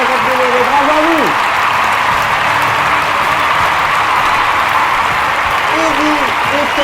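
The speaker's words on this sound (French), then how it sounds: "Vous méritez un tonnerre d'applaudissements de la part de votre public" A television game-show studio audience applauds steadily and loudly throughout, while a host speaks over the clapping at the start and near the end.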